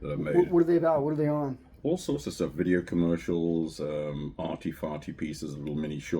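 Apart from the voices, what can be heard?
No distinct noise like a dog, phone or traffic.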